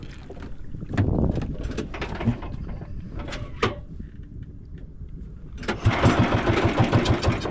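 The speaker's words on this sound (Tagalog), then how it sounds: "Grabing makina ni Chucky." A boat engine runs close by with an uneven, sputtering chug that surges loud near the end, mixed with knocks and splashes.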